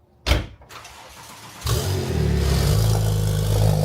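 A car door thuds shut, then a car engine cranks and starts with a sharp rev before settling into a loud, steady idle as the car moves, heard close by.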